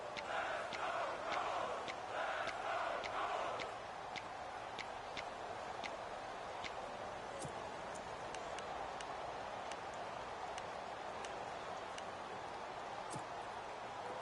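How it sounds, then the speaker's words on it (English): Crowd roar in a PS4 football video game, a loud swelling cheer for the first few seconds that fades into a quieter stadium murmur under regular ticking clicks. "the crowd getting into it as we come up on a big 3rd down"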